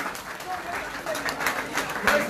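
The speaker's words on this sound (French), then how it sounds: "je vais vous demander de vous lever pour applaudir très fort" An audience at a political gathering in Paris stands and applauds, steady dense clapping filling the room with some cheering and voices mixed in.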